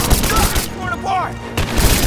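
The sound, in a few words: gunfire in Rise of the Tomb Raider video game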